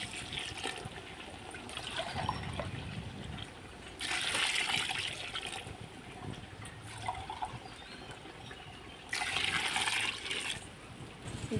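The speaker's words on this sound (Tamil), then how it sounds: "அதுக்கு முன்னாடி 4 சொம்பு தண்ணி ஆட் பண்ணுறோங்க." Water is poured from a small vessel into a cooking pot for chicken biryani, two distinct splashing gushes a few seconds apart over quieter trickling, with no talking.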